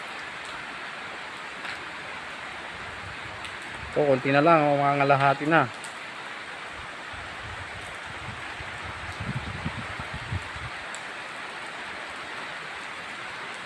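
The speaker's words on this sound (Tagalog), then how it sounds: "Tuloy-tuloy pa rin ang ulan." Heavy rain falls steadily at an outdoor project site in Tanay, a dense continuous hiss that runs throughout and stays loud under a short stretch of nearby talk and some quieter voices later.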